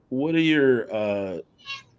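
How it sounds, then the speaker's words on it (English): A house cat meows twice in quick succession, the first call long and rising, the second slightly shorter, then a faint brief chirp follows, all close and clear with no talk over it. "Is that a cat?"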